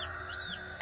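Young meat chickens in a homemade brooder give soft, faint peeping and clucking calls over a steady background hum, with a slightly louder chirp at the very end.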